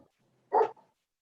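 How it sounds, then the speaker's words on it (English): A single short dog bark, fairly close and moderately loud, with a faint softer yip just after it against an otherwise quiet background. "my dog was barking"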